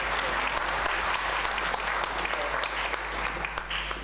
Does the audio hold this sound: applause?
yes